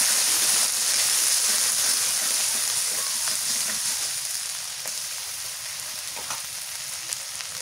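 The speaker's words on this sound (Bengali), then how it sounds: "রসুন পেঁয়াজ কাঁচামরিচ তেলে ভেজে বাটনা করছি" Garlic, onion and green chilli fry in oil with a dense, steady crackling sizzle that eases slightly over time, dotted with small pops and scrapes.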